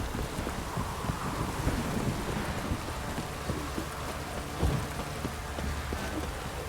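Steady rain in the video game The Witcher 3: Blood and Wine falls continuously, dense and hissing, with occasional low rumbles beneath it and no voices.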